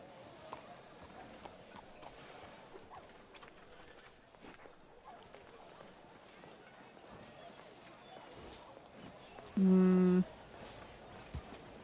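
Horse hooves clip-clop steadily on the ground in Red Dead Redemption 2 on a WildRP roleplay server, a soft continuous trotting rhythm under game ambience, briefly interrupted by a loud tonal beep.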